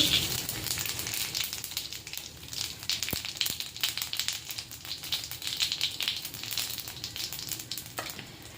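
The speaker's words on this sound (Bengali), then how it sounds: "কড়াইতে তেল গরম হয়ে জিরে ফোড়ন এসে গেছে।" Whole cumin seeds with bay leaf sizzle steadily in hot oil in a wok, a dense crackling fry that runs continuously, close and fairly loud, with no voices over it.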